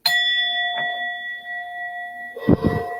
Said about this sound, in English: So I'm going to ring a little bell.